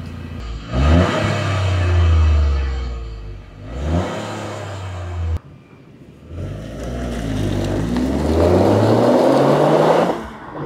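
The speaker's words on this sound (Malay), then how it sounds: "yang korang dengar tadi tu adalah bunyi standard original daripada Max." A Toyota GR Yaris on its stock original exhaust revs twice in short, sharp bursts, then holds a longer climbing rev. The engine is loud and close, with no talking.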